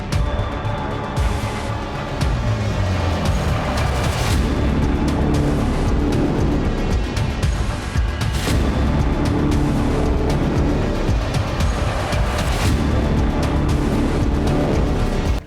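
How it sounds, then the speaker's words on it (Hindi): A car drives along a road in Stepanakert, its steady, loud rumble continuing throughout with some rising and falling swells. "स्टेपेनकार्ट की सड़क पर दौड़ती गाड़ी दिख रही है"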